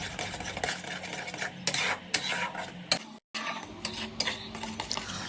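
A spoon or spatula stirs potol bharta mixture in a pan, with a quick series of scraping and clinking strokes against the metal and short pauses between them, quiet and close with no voices.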